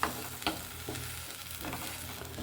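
Pasta ingredients fry and get stirred in a pan, giving a quiet, continuous sizzle punctuated by a few soft spoon scrapes and taps, with no voices.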